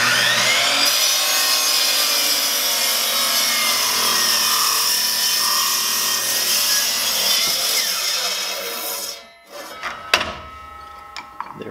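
A hand saw cuts a slice off a wooden piece from a Stickley bed in steady back-and-forth rasping strokes, loud and close, ending as the piece drops free, followed by a few knocks and handling sounds.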